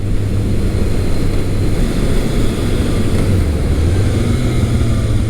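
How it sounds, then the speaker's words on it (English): A steady, loud low engine drone from a Kawasaki ZRX1200R motorcycle with stock exhaust, rumbling exhaust note, idling evenly without revving up or down. "Now this bike currently has the stock exhaust on it"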